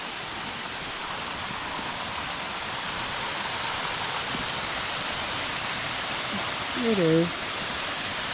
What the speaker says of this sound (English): I'm guessing that's the waterfall